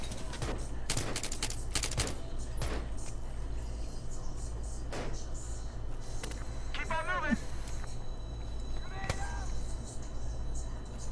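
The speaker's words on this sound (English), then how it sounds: "Lots of bullets coming." Gunfire in a first-person shooter video game, with bursts of sharp shots and automatic fire crackling in the first few seconds and again later, mixed under talk and other game noise.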